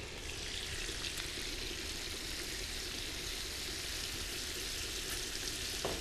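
Shrimp frying in a pan until crisp gives a steady, dense sizzle that stays even and fairly close throughout, with no talking over it.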